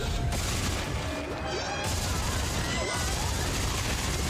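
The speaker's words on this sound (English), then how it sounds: "Just keep shooting. Corner, shooting." Sustained gunfire from the video game Dead Space 3, a dense, continuous fusillade of rapid shots with crashing impacts filling the whole stretch, loud and close.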